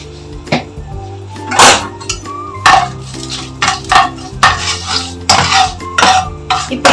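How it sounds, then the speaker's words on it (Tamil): A spoon clinks and scrapes in a warm pan as spice powders are stirred in with the stove switched off. The sharp metallic knocks come in irregular bursts over a soft, steady background tone. "ஸ்டவ் ஆஃப் பண்ணிட்டு இந்த பவுடர்ஸை வந்து நான் போட்டு கலக்குறேன் நான்."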